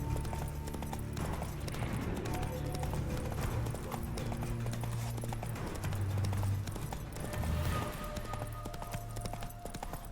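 Horse hooves clop in a steady, fast gallop in The Witcher 3, continuous and fairly loud over a low droning game soundtrack, with no talking.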